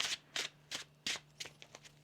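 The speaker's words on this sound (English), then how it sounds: "One more shuffle." Quiet, close riffle shuffles of a deck of tarot cards, five or six quick crisp bursts in an uneven rhythm over a faint steady hum, with no talk.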